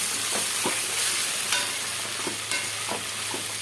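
Ripe chopped tomatoes tossed into hot oil for an okra gojju give a steady, close sizzle. Several light spatula taps and stirs sound over it, and no one speaks.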